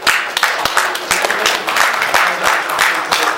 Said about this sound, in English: a round of applause for Julie and Tim Hemmings